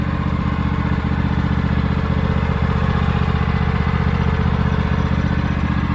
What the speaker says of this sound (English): I hope you can hear me over the tractor. I have it on low idle